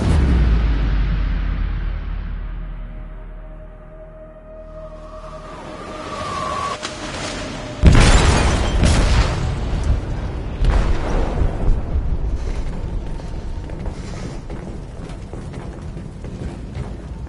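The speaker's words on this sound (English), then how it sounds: "They detonated an explosive in the hold" A powerful explosive detonates in a ship's hold in Detroit: Become Human, a sudden deep boom after a low rumbling build-up, followed by sustained roaring, crashing debris and a long rumbling aftermath.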